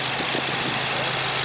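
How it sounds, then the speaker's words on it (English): A Ford 6.0 Powerstroke diesel runs with its turbo surging, giving a steady, loud, dense mechanical roar that stays even for the whole short stretch, with no voices. "That surge sounds good. It sounds like a 6-liter."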